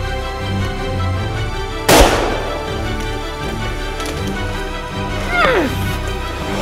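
A single loud rifle shot cracks close by while hunting a moose on Stone Mountain, its sharp report echoing away, with softer movement sounds afterward.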